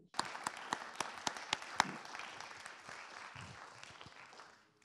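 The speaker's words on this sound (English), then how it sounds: "everyone applaud" Lecture-hall audience applauds at the end of a physics talk on interacting particles in quantum gases, a few sharp claps standing out at first before the clapping settles into steady, moderately distant applause that gradually fades.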